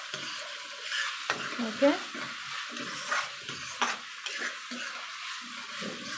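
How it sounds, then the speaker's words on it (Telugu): A tomato and egg curry mixture with turmeric fries in a pan, a steady close sizzle with scraping stirs and a few utensil knocks. A voice speaks a single brief word. "వేయించుకుందాం ఫ్రెండ్స్."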